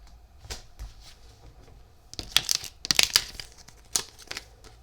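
Heat transfer sheet warm-peeled off a test shirt, heard as quiet crinkling and tearing rustles that build into a few louder bursts of crackle near the end.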